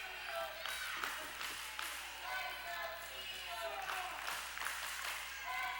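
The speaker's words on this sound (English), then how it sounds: "This crowd trying their best to get behind Chris Steele, trying to give him any glimmer of hope" Wrestling crowd at an independent pro wrestling show cheers and applauds to rally behind a struggling wrestler, a steady broad roar of clapping and voices throughout, with commentary talk riding over it.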